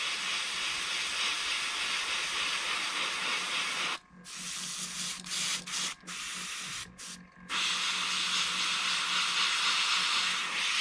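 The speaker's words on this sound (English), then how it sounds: "My airbrush is not liking this paint right now." An airbrush sprays dark green paint onto a fishing lure, giving a loud, steady close hiss that breaks off into short sputtering bursts midway before resuming continuously.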